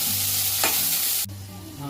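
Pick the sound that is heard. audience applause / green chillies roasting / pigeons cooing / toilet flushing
green chillies roasting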